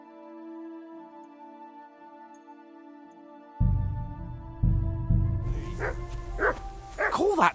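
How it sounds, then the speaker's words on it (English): A dog barks in the medieval video game Kingdom Come Deliverance 2, several close yapping barks arriving in the latter half over game music and ambience. "Jesus, Henry, that barking's driving me nuts. Can you get your dog to shut its beak?"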